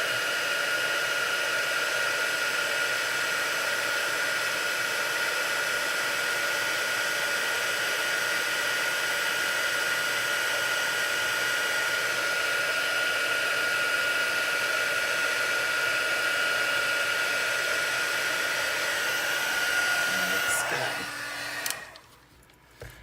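A handheld heat tool blows hot air over a stamped card panel for embossing, a constant loud whooshing drone that holds for about twenty seconds before abruptly switching off.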